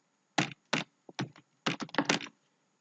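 Computer keyboard keys tapped in short irregular bursts, close and crisp, about ten clicks with brief pauses between groups.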